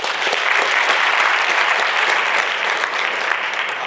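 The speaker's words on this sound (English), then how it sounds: "Please give all of them a big round of applause." A big round of applause from the audience at an Africa Day 2017 event, continuous dense clapping that stays loud and even from start to finish.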